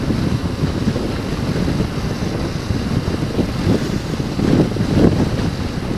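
Wind buffeting a rider on a motorcycle touring trip, a steady roaring rush of air with low rumble and occasional louder gusts, continuous and close throughout.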